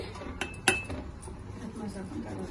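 A utensil clinks against a pot while jaggery dumplings are stirred in simmering jaggery syrup, giving two sharp metallic knocks early on over a low bubbling background.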